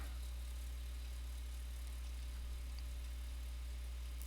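A UH-1H Huey helicopter in DCS World starting up, its turbine giving a steady low drone with a faint constant whine, no voices, holding level throughout.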